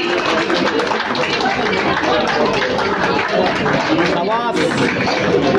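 Loud applause fills a photography exhibition, a dense crowd clapping steadily throughout. A voice speaks over the clapping.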